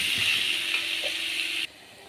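Pumpkin stir-fry with ginger and crushed unpeeled garlic sizzles in a pan over a slow flame, a soft, steady frying hiss that drops abruptly to a much quieter level near the end.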